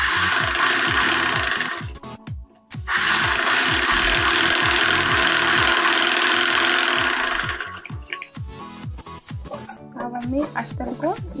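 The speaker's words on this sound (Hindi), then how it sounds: "सबसे पहले बुकरम को अस्तर के ऊपर रख के सिलाई लगाएंगे।" Sewing machine stitching buckram onto a blouse lining, running in fast rattling bursts with a short pause near two seconds and stopping around eight seconds, followed by lighter mechanical clicks and handling.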